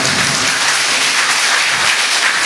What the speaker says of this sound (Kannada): ಒಂದು ಜೋರಾದ ನಿಮ್ಮ ಚಪ್ಪಾಳೆ